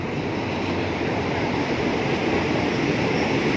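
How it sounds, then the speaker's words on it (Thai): A train arrives at Pattani station in Khok Pho with a loud, continuous rolling rumble, and faint voices may sit beneath it. "น้องครับรถไฟมาแล้วขบวนนะ"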